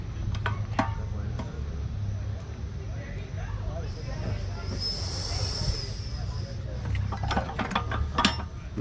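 Clamps on a No-Mar motorcycle tire changer are turned and loosened, giving a steady mechanical grinding and ratcheting with a hissing whine in the middle and sharper metallic clicks toward the end.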